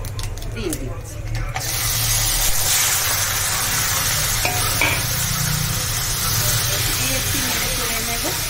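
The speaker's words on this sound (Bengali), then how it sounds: "এবার আমি আনারসগুলো দিয়ে দিচ্ছি।" Pineapple pieces go into hot oil with panch phoron over a low gas flame: a loud, close sizzle bursts in after a quieter start and stays steady, with rattling stirs and scrapes through it.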